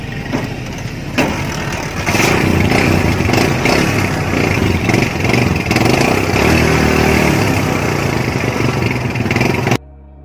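A Kawasaki Barako 175 motorcycle engine runs close and loud, a steady rough mechanical chug that stops abruptly near the end.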